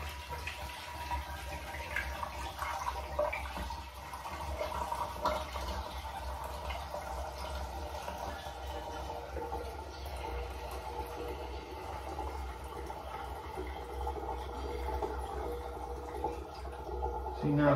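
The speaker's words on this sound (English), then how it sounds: "So the juice doesn't really flow through it very well once it gets clogged" Banana wine juice seeps through clogged cheesecloth with a steady, soft watery trickle and faint drips that continue without a break over a low background hum.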